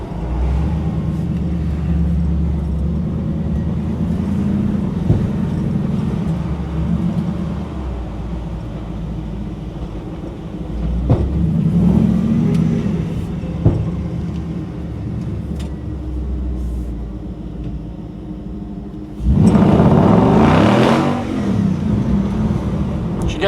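A restored car named Sunshine drives slow laps around a dealership, making a steady engine drone with occasional knocks and a louder surge of revving near the end.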